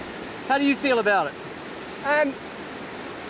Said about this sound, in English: It's a lot of water going downstream.